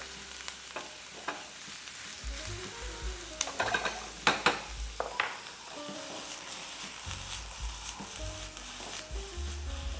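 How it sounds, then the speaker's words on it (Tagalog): White onions sautéing in a pan with balsamic vinegar, a soft steady sizzle broken by clustered scraping and stirring clatters, fairly close and with no talk. "Gisa-gisa muna natin ng konti."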